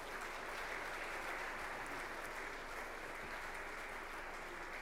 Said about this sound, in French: Vos acclamations toujours, s'il vous plaît.